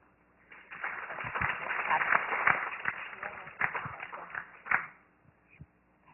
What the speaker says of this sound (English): a big round of applause, and very, very grateful to Catherine for making this a reality.